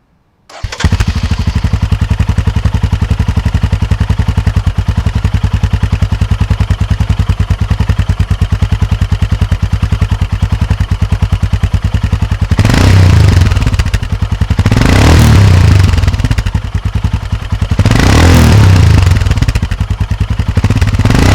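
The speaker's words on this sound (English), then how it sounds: "Let's listen to the sound with decibel killer." A Royal Enfield Himalayan motorcycle fitted with a PoweRage exhaust and decibel killer fires up and idles with a loud, thumping single-cylinder beat, then revs hard three times in quick bursts near the end.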